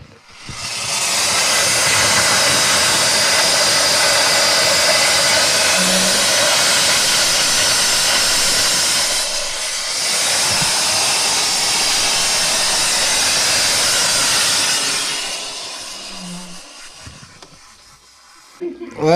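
A Stanley Steamer steam car engine blows off steam in a loud, close, roaring broadband hiss lasting about fourteen seconds, with a brief dip midway, before it tapers off.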